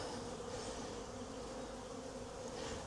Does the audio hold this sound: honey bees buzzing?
yes